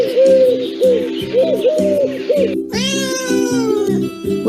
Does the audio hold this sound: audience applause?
no